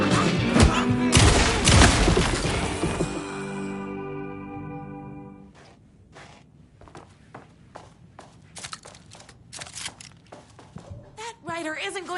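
Gunfire from Alan Wake 2: a dense, loud burst of shots and impacts over the first few seconds, then scattered thuds, steps and clatter after the shooting stops, with a voice speaking over parts of it.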